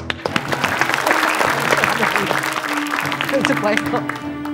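A studio audience applauding during a comedy show, a lively spread of clapping mixed with voices and cheering talk over it.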